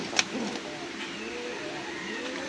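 A pair of Rajgolla pigeons gives soft, low cooing, faint and close, with a sharp tap near the start.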